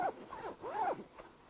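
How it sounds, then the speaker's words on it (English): Close, crisp zipper pulls on the front pocket of a KF Concept camera sling bag with tough, water-resistant fabric, a few quick rasping strokes of varying length in a quiet room. "we've got a zip on the front"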